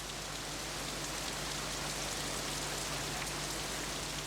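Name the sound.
torrential rain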